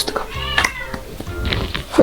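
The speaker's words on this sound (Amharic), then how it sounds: "ድመታችን እየተጣላ ነው" Cats yowl and snarl in harsh, wavering cries, a close scuffle with rising and falling growls and brief murmurs in the background.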